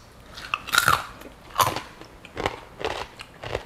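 Someone bites and chews a crunchy root vegetable chip with dip, producing close, loud crackling crunches in uneven bursts roughly every half second to second.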